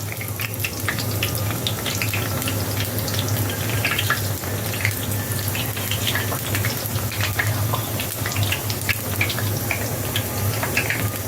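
Onion fritters (piyaju) fry in oil over low to medium heat, a steady close bubbling sizzle with scattered pops and crackles over a low background hum.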